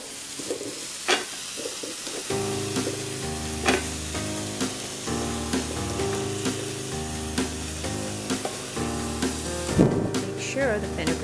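Potatoes and fenugreek leaves cooking in a pan make a continuous sizzle and hiss with repeated sharp utensil scrapes and taps throughout, while a soft tonal background sound runs beneath, with no speech.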